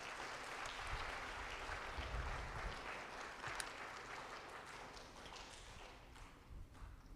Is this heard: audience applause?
yes